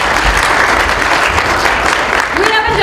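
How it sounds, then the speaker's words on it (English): Audience at an educators' training session applauding a participant, loud close clapping from a room of people, with voices and cheers mixed into the applause throughout. "Let's give her a round of applause."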